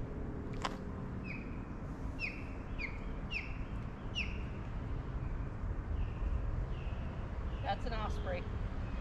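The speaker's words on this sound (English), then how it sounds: "Wow, it's an eagle, guys." Repeated high, descending call notes from an osprey along a lakeside trail, about five calls spaced a second apart over steady wind and background rumble, followed by a sharper chattering burst.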